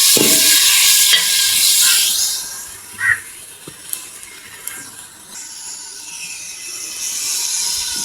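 Garlic paste stirred into browned onions frying in a pan, a bright hissing sizzle that swells and fades with a few sharp scrapes and clinks of the spoon, fairly loud and close.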